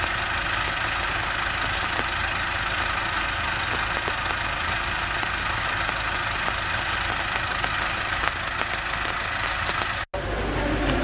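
A tractor engine runs steadily at a constant rumbling idle, loud and close, with a brief dropout near the end and no talking.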